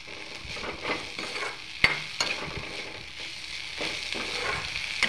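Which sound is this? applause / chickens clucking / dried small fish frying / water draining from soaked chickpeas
dried small fish frying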